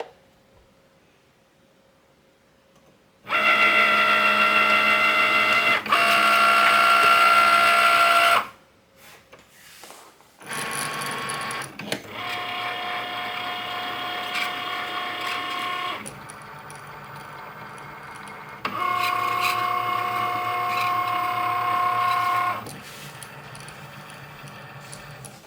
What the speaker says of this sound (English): it's just going to do a quick outline like it's scoring the card itself here, and then it'll go with the foiling